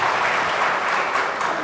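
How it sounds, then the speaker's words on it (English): Steady applause from a room of students at an inauguration event, a dense, even wash of many hands clapping close and fairly loud throughout. "A big round of applause, please, for yourself."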